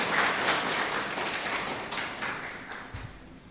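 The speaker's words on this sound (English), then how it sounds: "So yeah, we can clap for this speaker." A lecture audience claps for a speaker, a short burst of scattered hand claps at moderate distance that gradually thins out.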